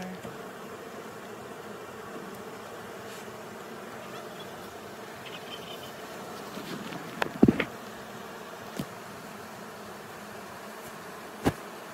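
Honeybees hum steadily around a backyard beehive, a soft continuous drone, with a few faint clicks and knocks from handling nearby.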